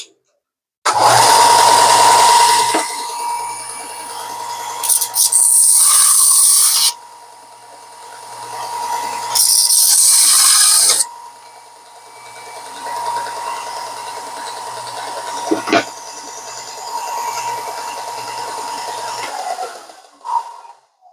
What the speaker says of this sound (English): So I'm going to get to sanding this.